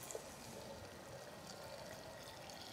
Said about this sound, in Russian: Маринад закипел, и мы заливаем